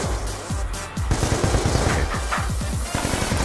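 Rapid automatic gunfire in Black Ops 2 rattles in quick, dense bursts of close, loud shots that repeat almost without pause.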